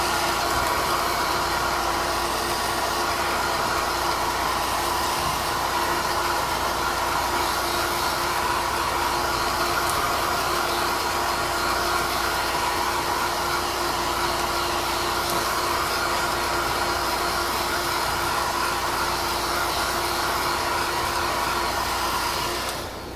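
A dryer blows continuously to dry items, a loud steady whooshing hum from start to finish with no voices.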